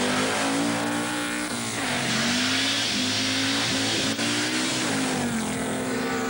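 A rally car at the 1987 Swedish Rally, driven while it overheats, its engine revving loud and close with rising and falling pitch through gear changes and no voices.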